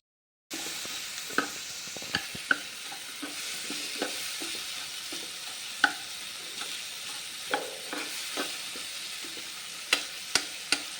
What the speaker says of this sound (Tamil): தக்காளி நல்லா வதங்கட்டுங்க.